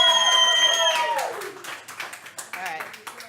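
Studio audience clapping for producer Alex on a comedy podcast, a scattered burst of claps with some crowd noise that starts after a moment of harmonic tones and continues unevenly under talk.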